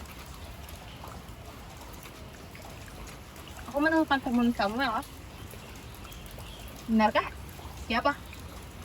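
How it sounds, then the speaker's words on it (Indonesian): Steady rain falls as a soft, continuous hiss throughout, under short bursts of conversation between two people. "Aku hanya suka hujan."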